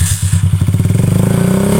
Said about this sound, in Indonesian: Dan kita harus butuh RPM tinggi seperti ini.